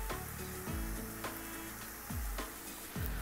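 Kerala-style prawn roast with kokum sizzles in a pan as raw coconut oil goes in off the heat, a steady loud frying hiss broken by a few soft knocks and stirring scrapes.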